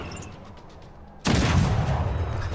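A tank attacking a unit in Civilization 6 sets off a sudden loud burst of gunfire and explosive rumble midway, sustained and dense after a quieter game backdrop.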